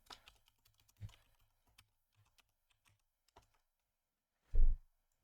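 Password typed on a computer keyboard: a few sparse, soft key clicks spread across the clip, then one louder burst of quick keystrokes near the end, in a quiet room.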